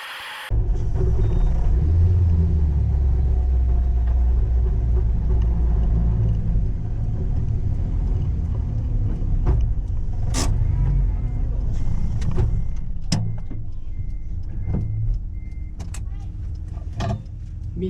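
A K24R VTEC-swapped Toyota MR-S with a blown transmission is pulled and rolled, giving a loud steady grinding rumble and intermittent sharp knocks and clunks, close by.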